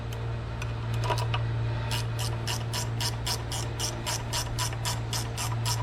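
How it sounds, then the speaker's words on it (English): A ratchet clicks rapidly and evenly while a nut is run down onto a stud on a 1971 Chevelle, close and steady over a constant low hum, with no voices. "you just screw the nut on all the way"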